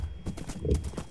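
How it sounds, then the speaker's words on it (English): Hooves clip-clop as a horse is ridden in Minecraft, a brief run of soft steps over a low rumble with a voice talking through the same moment. "Ride on, Stallion!"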